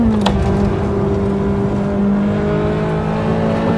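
Radnor Draig lightweight sports car, about 1,200 kilos and built for a non-fossil-fuel future, picking up pace from inside the cabin, a steady close whirring drone with tones that climb gradually as speed builds.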